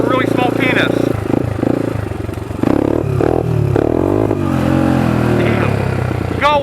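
A motorcycle engine is goosed and then wrapped up high while the bike lifts into a wheelie, its loud, close revving rising and falling in pitch with some clatter. Music or voices may run underneath.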